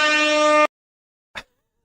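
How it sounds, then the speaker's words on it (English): Foghorn sound effect played on a live stream: one loud, steady, brassy horn blast that cuts off abruptly, then a brief short burst after a moment of silence. "My foghorn. My foghorn thing."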